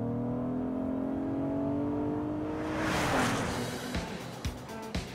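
A 2022 Acura MDX SUV accelerates hard on kickdown, its engine note rising steadily in pitch and loudness, then swelling into a roaring whoosh with a few sharp knocks near the end.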